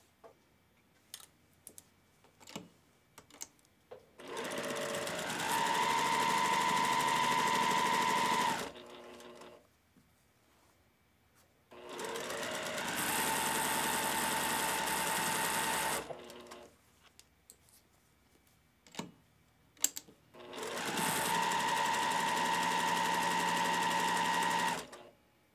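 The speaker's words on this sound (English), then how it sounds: "we're going to sew using a 1/4 inch seam, starting all the way at the top and going all the way to the bottom" Domestic sewing machine stitching a quarter-inch seam along a quilt block, running in three steady whirring bursts of several seconds each with quiet pauses between, close and fairly loud, with light clicks during the gaps.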